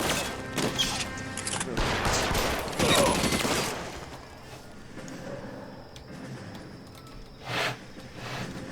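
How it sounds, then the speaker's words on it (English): Gunfire aimed at the player in L.A. Noire: a loud, rapid volley of shots and impacts for the first few seconds, then quieter scattered noise with one more sharp shot near the end. "Who the hell's shooting me?"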